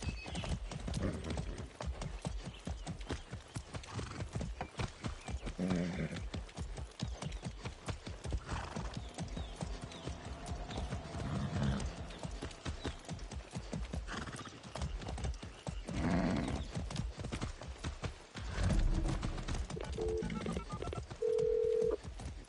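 A horse gallops in the video game Far Cry 6, with steady, rapid hoofbeats that run close and loud throughout, a brief whinny, and a few short electronic beeps near the end.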